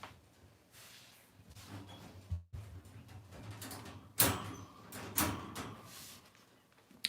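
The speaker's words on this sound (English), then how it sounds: "the crate door is closed" A dog travel crate door being handled and shut, giving a few scattered clanks and rattles of moderate loudness against a quiet indoor background.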